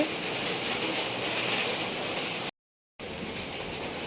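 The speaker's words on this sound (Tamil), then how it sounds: "செம்மையாக வந்து மழை பெய்யுது." Steady rain pours down in the morning, a dense even hiss that runs alone, then cuts to a brief half-second of silence before resuming.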